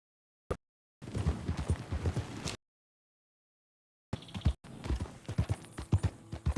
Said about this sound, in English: Get this horse up and running.